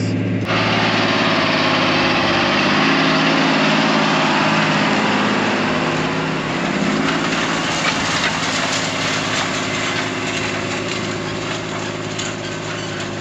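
Tractor engine droning steadily while pulling a field cultivator through freshly cleared farm ground in Iowa, loud and close, a continuous unbroken rumble with only slight shifts in tone and no talking.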